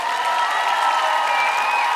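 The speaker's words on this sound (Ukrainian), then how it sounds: "Ці оплески для тебе ще раз," Studio audience at a live X-Factor television show applauds loudly and steadily, a dense wash of clapping and crowd noise throughout.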